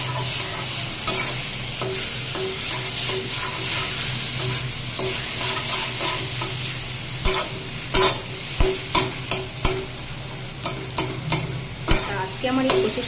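Kochu (taro) greens frying in a pan while being stirred, a continuous soft sizzle with repeated scraping strokes of the spoon that grow sharper and more rhythmic toward the end.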